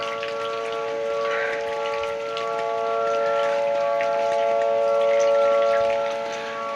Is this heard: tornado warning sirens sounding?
yes